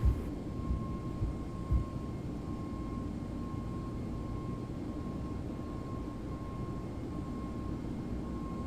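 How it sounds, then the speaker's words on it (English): An Airbus A321neo takes off in a flight simulator, with a steady, loud engine roar and a constant tone filling the cabin throughout and no voices heard. "And we are airborne once again."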